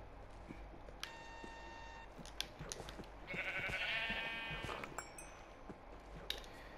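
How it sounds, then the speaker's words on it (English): Sheep bleating in Minecraft, a wavering, nasal bleat rising near the middle over quiet game ambience, with a few short electronic tones and clicks around it. "I found one more sheep."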